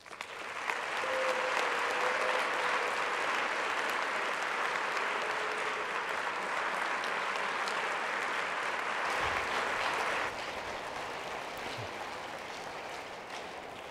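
An audience applauds to welcome a speaker to the stage, a steady full roar of clapping that holds for around ten seconds and then thins and fades.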